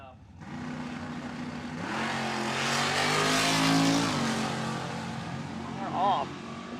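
Chevrolet Monte Carlo big-block and Ford Mustang drag racing cars thunder down the strip at a Funny Car Chaos event, a loud sustained engine roar that swells and holds for several seconds before easing off.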